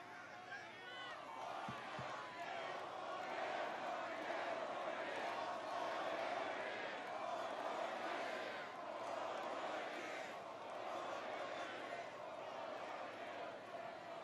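Large crowd at a Trump rally in New Hampshire roars continuously, a dense wash of cheering and shouting sustained throughout at steady loudness.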